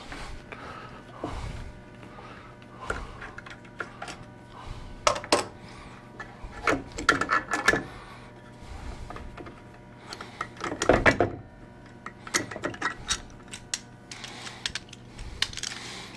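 Clamps come off glued-up wooden boards for charcuterie boards, giving scattered clicks, knocks and metallic clatter at close range with brief pauses between handling sounds.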